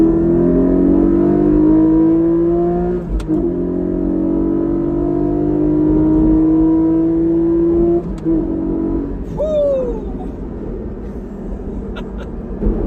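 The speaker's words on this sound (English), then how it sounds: "All right, driving the Cayman GT4." A 2020 Porsche Cayman GT4 engine drones steadily at speed on the road, the pitch climbing slowly through a gear, then a quick shift and revving with road roar underneath.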